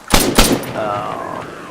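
A single loud, sharp 7.62 rifle shot fires in a video game, followed by a short tail and a faint ringing tone as the sound fades.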